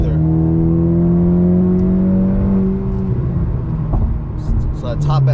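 A Honda Accord 2.0t with a DC Sports exhaust and downpipe pulls hard, its droning engine tone climbing steadily before a shift-like break, then rumbling on up close, with a voice briefly speaking near the end.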